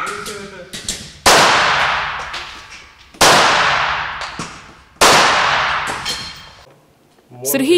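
Three sharp gunshots from a police cadet on a firing range, fired at a steady pace, each cracking loudly and ringing out with a long fading echo, with faint activity between them.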